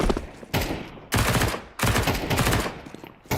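Pistol fire in a competitive shooter video game: three or four loud, sharp shots in irregular succession, each a sudden broadband crack with a short decaying tail, heard up close with no talk.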